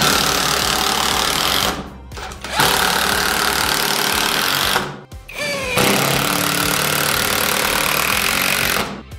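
An old-model impact screwdriver drives 5x70 screws, hammering loudly and continuously in close bursts, with two brief pauses between screws.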